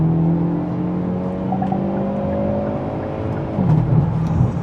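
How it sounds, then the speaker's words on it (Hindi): A 2023 Hyundai Elantra N with a DCT accelerates in gear on a highway, its engine note climbing steadily and loudly, then dipping briefly as a gear shift comes through, heard from inside the car. "अपन जस्ट जो है अभी इसका इन गियर एक्सेलरेशन चेक करते हैं।"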